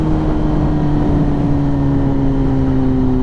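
A 2025 Kawasaki ZX10R sport bike engine drones steadily at a sustained high rev, close and loud, with a constant harmonic hum and no distinct pops standing out.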